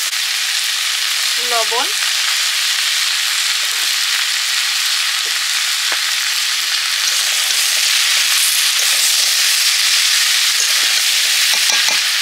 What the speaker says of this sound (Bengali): পেঁপে দিয়ে সুন্দর করে কষে নেব ঢাকা দিয়ে দিয়ে